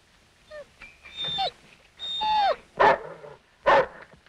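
A dog whimpers and whines in rising and falling cries, then lets out two sharp barks, close and loud with no other sounds around.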